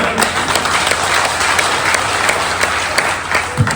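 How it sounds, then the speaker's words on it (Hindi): Loud, steady applause from a crowd at a political party panchayat gathering in India, continuous clapping with no gaps and no one speaking over it. "जोरदार ताली बजाकर"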